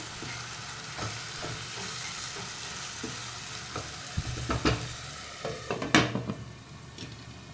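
Tomatoes with added salt cooking in a pan, a low steady sizzle with scattered clinks and scrapes of stirring that grow louder near the end.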